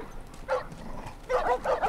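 Dogs bark in The Last of Us video game, sounding as a short burst followed by a longer run of yelping barks, moderately loud against a steady background.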